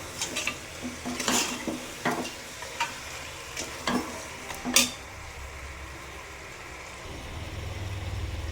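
Mutton pieces for a thala kari curry sizzle as they fry in a pan, with scattered scraping strokes from stirring during the first five seconds, then a steadier low sizzle and a rising low rumble toward the end.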